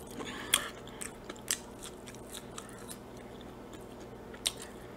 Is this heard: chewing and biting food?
yes